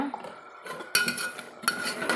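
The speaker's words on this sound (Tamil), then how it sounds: "சேர்த்திட்டு நல்லா கலந்து விட்டுக்கலாங்க" A spoon scrapes and clinks against a metal pot while stirring a tamarind mixture with turmeric, in a few bursts, close and fairly quiet.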